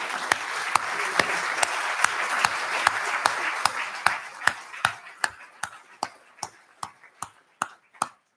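An audience gives a standing ovation at a spiritual address. Dense, loud clapping gradually thins out into a handful of sharp, scattered individual claps before fading away.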